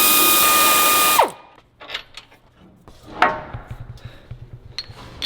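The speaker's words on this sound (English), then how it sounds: "you're going to use a ratchet with an 18 and a 24mm wrench" A ratchet works on the idler arm bolts of a 2020 Duramax pickup, a few sharp metallic clicks and clanks close by following a brief loud power-tool whine that cuts off at the start.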